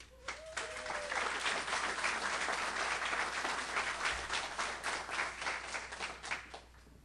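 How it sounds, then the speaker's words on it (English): A steady round of audience applause breaks out at a spelling bee after a winner is announced, with dense clapping that holds evenly for several seconds before tapering off. "Let's give another round of applause"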